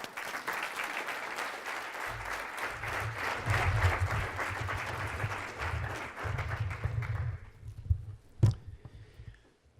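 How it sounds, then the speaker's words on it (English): A conference audience applauds the speakers, a sustained wash of many hands clapping in a hall for about seven seconds before fading out, with a few low thumps and a sharp knock near the end. "So it can both be a round of applause for the speakers and for Jens,"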